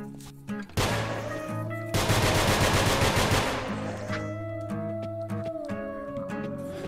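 Rapid bursts of gunfire from the Nongunz video game, loud and dense, firing in quick volleys over steady game music with no talking.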